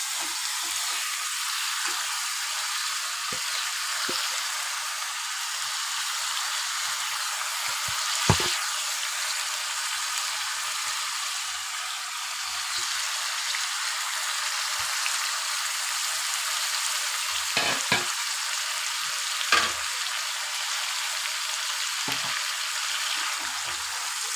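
Continuous sizzle of marinated chicken frying in a pan for a home-style chicken curry, a dense crackling hiss with occasional sharper pops and clinks, no voices.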